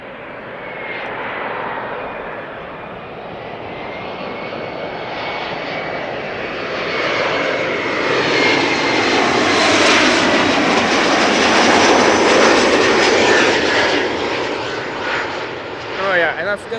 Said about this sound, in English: Embraer 170, flight 263, arriving from Warsaw